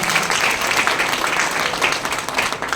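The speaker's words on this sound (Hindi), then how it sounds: "एक बार जोरदार तालियां" Audience applause at a company speech event in Buxar, Bihar, a dense, steady wash of many hands clapping throughout, moderately loud with no talk over it.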